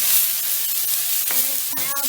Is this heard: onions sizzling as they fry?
yes